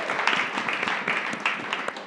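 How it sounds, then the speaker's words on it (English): Brief audience applause at a leaders conference, dense steady clapping lasting about two seconds. "So please give Zach a round of applause"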